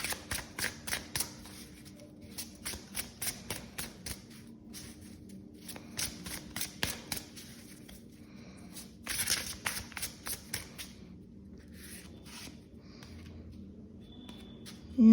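A second tarot deck is shuffled by hand in rapid bursts of crisp riffles and slaps, close and clear, with brief pauses between rounds and almost no talk.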